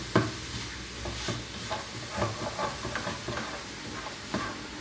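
Chicken and onions sauté in the same frying pan they were fried in, with a constant hissing sizzle and a string of quick stirring scrapes and taps.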